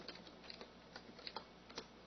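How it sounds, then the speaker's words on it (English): Quiet, close typing on a computer keyboard, a short run of separate key clicks with a few sharper taps, and no voices. "Let's go ahead and type inventory."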